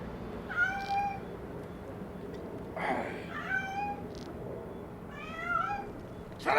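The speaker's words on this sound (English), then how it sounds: "Shut up, you damn ass cat!" Several cats meow in distinct rising-and-falling calls, three or four bursts spread across the moment, moderately close over a steady low background hum, with no talking.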